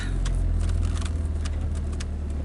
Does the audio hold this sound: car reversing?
yes